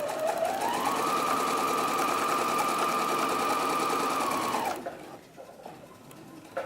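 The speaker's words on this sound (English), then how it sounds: "I am going to do some back stitches here because we're going to be giving this a bit of a pull" A sewing machine runs steadily while stitching an infinity scarf, giving a close, even whirring hum. It then stops abruptly, leaving quiet room noise.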